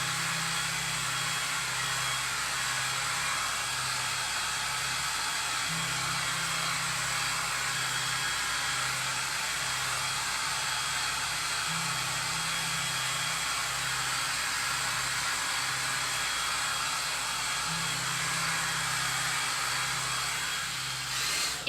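A hair dryer blows steadily up close while drying a chocolate skull decoration, a constant whooshing roar with a faint pulsing hum beneath it for the whole stretch.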